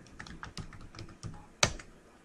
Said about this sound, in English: you can type name Kumar working department